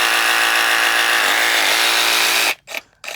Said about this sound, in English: Reciprocating saw, Snap-on in action.